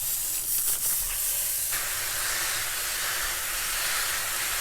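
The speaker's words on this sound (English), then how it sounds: "She's so sizzling." Ground meat for canned chili sizzles as it browns in a pot, a loud, continuous close-up hiss and crackle with no voices.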